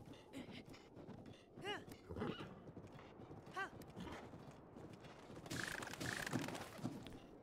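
A horse in Zelda: Breath of the Wild moves with a few clip-clopping hoof steps and snorting breaths, close and moderately loud, with a burst of game noise near the end and a voice talking at times.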